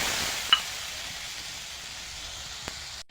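Water poured into a pan of frying spice masala sets off a steady, hissing sizzle, with a couple of brief clinks from a utensil.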